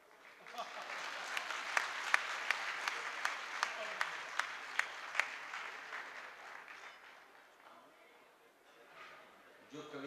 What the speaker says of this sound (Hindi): तो एक बार जरा जोरदार तालियां बजाकर आदरणीय सर को आमंत्रित करें